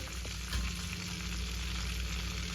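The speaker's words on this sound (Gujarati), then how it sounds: "આપણું બટર ગરમ થઈ ગયું છે તો હવે આપણે એમાં જીરું નાખીશું" Cumin seeds sizzle in hot butter and oil for a creamy dal makhani. The frying hiss is steady, dense and close throughout, and no one speaks.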